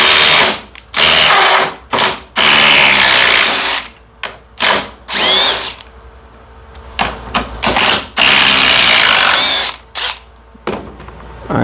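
DeWalt DCF860 or Milwaukee impact driver driving long screws into wood, with loud close bursts of whirring and hammering that repeatedly start and stop in an irregular rhythm.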